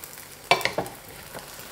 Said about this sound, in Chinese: 烙至30秒，给它翻过来，看一下，鸡蛋已经特别好了，金灿灿的，这时候就可以出锅了。